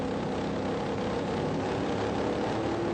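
Race car engines at a racetrack in a 1994 nationals meeting, held at high revs before the start, a dense, steady roar that fills the whole stretch without a break.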